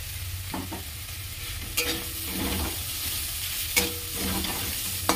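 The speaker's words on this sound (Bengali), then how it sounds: "ছাতুটা ভাজতে দেখুন কতটুকু হয়ে গেছে" Pol chatu, gram flour, frying and being stirred in a pan, with a steady low sizzle and scraping strokes of a spatula at intervals, close and alone without talk.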